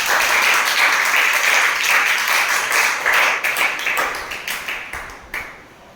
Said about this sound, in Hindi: आप जोरदार तालियों से इसकी शुरुआत करें